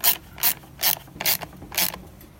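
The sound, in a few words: ratchet tightening a bolt on a leaf blower carburetor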